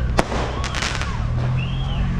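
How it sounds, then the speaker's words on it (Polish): Diwali fireworks set off from a nearby garden in Triolet, Mauritius. A quick series of crackling pops and bursts plays over a dense outdoor rumble, with faint whistling and some background voices. "mieliśmy możliwość nawet zobaczyć fajerwerki puszczane z ogródka tutaj, obok z domu"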